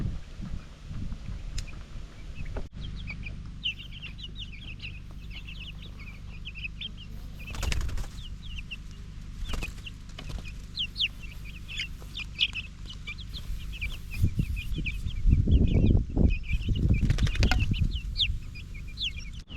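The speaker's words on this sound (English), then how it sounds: "those chicks are about 3/4 Orpington and 1/4 Copper Moran" Mixed Orpington and Copper Maran chicks on an off-grid homestead cheep and cluck steadily in a busy high chorus, with occasional low thumps, rustling and wing flutters underneath, and no talking.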